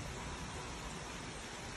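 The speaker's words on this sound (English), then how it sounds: "the wind is blowing and the rain is coming down" Steady rain and wind outside during street flooding: a dense, constant broadband hiss of downpour with no breaks, close and fairly loud, with no voices.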